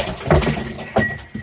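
Makeup brushes knocked over and hitting the floor, a couple of sharp clattering knocks close by, the last one smaller.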